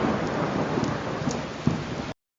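Heavy rain pours steadily with low thunder rumbling beneath it, a dense, continuous storm sound effect that stops abruptly at the end.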